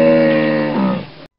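A hippopotamus gives a single deep, droning bellow lasting just over a second. The call wavers near the end before fading out, and it is heard alone and close.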